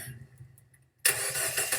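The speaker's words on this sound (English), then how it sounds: "Let's listen to the engine." A used car's engine cranks briefly and catches after a second of near-silence, then settles into a steady, close idle with no talking.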